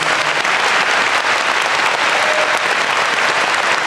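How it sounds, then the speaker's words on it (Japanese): Steady, dense applause from a large crowd at a retired sumo wrestler's hair-cutting retirement ceremony, loud and sustained throughout without pause. "改めて皆さん、ご一家に拍手をお願いいたします。"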